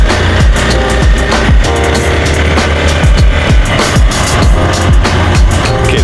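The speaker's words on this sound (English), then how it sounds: "That was another 30-minute drive or so on the bike" Motorbike ride out through the Nepali countryside, a steady loud engine drone with wind rush and repeated bumps and rattles over the road, continuous throughout with no talking.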